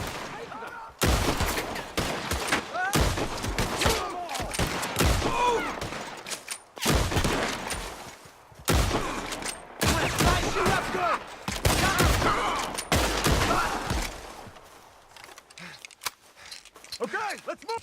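Loud gunfire in a woodland shootout in Red Dead Redemption 2, with repeated sharp shots and volleys in irregular clusters separated by short gaps, and voices shouting in between.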